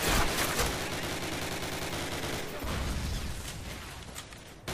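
Sustained battlefield gunfire in a Call of Duty fight, dense overlapping rifle and machine-gun bursts rattling continuously at close range and fairly loud, with no clear pauses and a faint voice briefly underneath.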